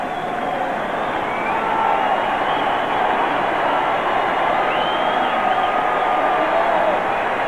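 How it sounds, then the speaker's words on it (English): Baseball stadium crowd at a 2005 playoff game between the Astros and Braves keeps up a steady, broad roar of cheering and clapping, heard at a distance beneath a commentator's voice. "Crowd on their feet."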